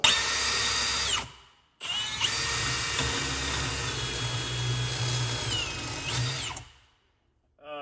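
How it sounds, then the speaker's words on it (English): A power drill whines loudly through two bursts, a short one then a longer sustained run with pitch shifts as it bores a hole into a kitchen cabinet, stopping abruptly. "let's drill this hole"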